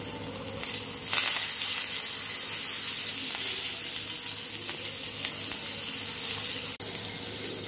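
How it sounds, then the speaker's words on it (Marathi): Pomfret fish fries in oil in a pan over low heat, a continuous close sizzling hiss that holds steady throughout, with a single sharp click near the end. "तर कमी गॅसवर हा तळून घ्यायचा आपल्याला पापलेट।"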